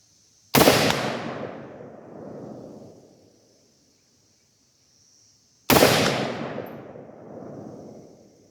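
Two loud, sharp rifle shots firing .223 55 grain soft point rounds from a Bear Creek Arsenal 608N 16-inch midlength upper, spaced about five seconds apart, each cracking close and echoing away over a couple of seconds outdoors.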